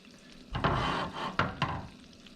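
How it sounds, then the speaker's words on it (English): Garlic and Thai chilies sizzle in a hot pan, with a few sharp clatters and stirring scrapes over a steady crackle. "As soon as it starts to sizzle, this will all come together quick."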